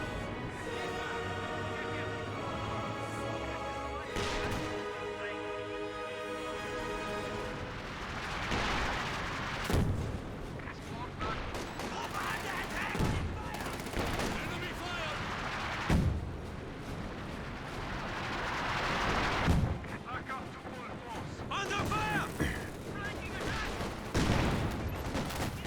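Battle sounds from Company of Heroes 2, including a six-pounder anti-tank gun firing: a dense, continuous wash of distant artillery booms, gunfire and explosions, with repeated heavy thuds under the game's ambient din.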